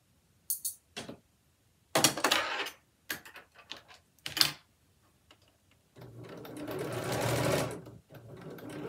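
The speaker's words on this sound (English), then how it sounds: "Just sewing very, very close to the edge." Sewing machine stitching very close to the edge of a shirt cuff in short stop-start bursts, then a longer steady run near the end, fairly close and moderately loud.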